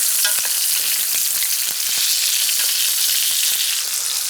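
Steak sears loudly in a hot pan as it is basted, with a dense, continuous sizzle broken by quick spoon scrapes and spattering pops, close and alone without any talking.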